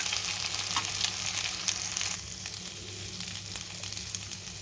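Okra pieces frying and being stirred in oil for a spiced okra and oilcake fry, giving a steady, dense sizzle throughout that is louder in the first half, then settles to a softer crackle.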